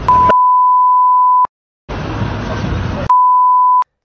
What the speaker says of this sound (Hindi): इतनी ज़्यादा बीप्स आपने सुनी होंगी